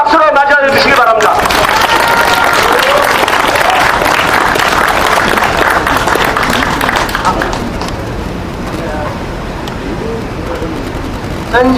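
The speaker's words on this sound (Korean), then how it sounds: "큰 박수로 맞이해 주시기 바랍니다." Loud, sustained applause from a crowd at a memorial ceremony, greeting the son of an independence activist as he comes forward to speak, with the clapping easing off after about eight seconds.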